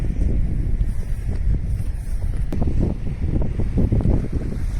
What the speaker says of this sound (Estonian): Ma pean ütlema, et siin on ikkagi väga tugev tuul.